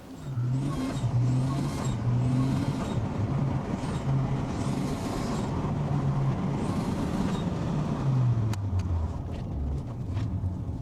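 A turbocharged BMW E30 325i with an M20B25 engine drives along, its engine note rising and falling through gear changes, steady and moderately loud from inside the car.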